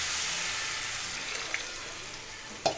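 Tamarind juice poured into a hot pan gives a steady, soft sizzling hiss throughout, broken by a couple of small pops near the end.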